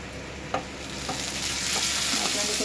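Melon seeds fry in a pan with a quiet, continuous sizzle and a few stirring taps and scrapes.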